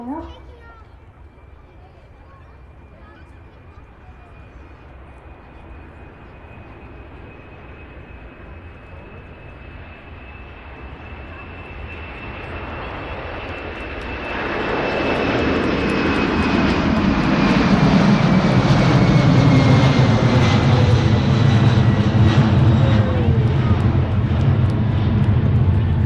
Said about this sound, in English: There she goes. Engine spooling up.